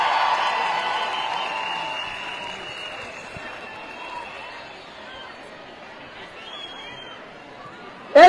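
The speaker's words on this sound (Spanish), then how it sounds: "un aplauso para las mujeres que están afuera" Crowd applause at a women's gathering in a coliseum in Casanare, loud at first then thinning to a faint murmur of chatter, with a brief sharp burst at the very end.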